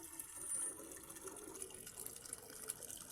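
Collected rainwater being poured, a faint, continuous splashing and trickling of liquid, distant and steady with no talking.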